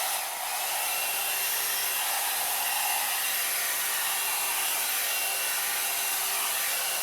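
A L'Ange titanium blow-drying brush blows hot air through hair with a loud, steady, close whoosh that holds unbroken for the whole stretch, a faint brushing texture riding underneath.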